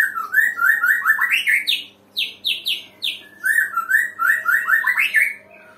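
A white-rumped shama sings a lively, continuous song of rising whistled phrases and chirps, close and clear, with a short pause midway before resuming.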